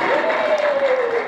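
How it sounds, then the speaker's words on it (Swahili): Church congregation clapping together in praise during a live service, a steady wash of many hands with a held tone running underneath. "Piga makofi kwa Bwana."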